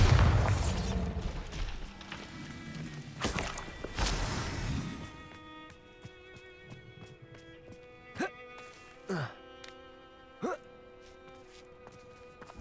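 Bombarda spell explosions in the Hogwarts Legacy video game, with heavy booming crashes early on and then a few sharp, lighter blasts over a quieter background.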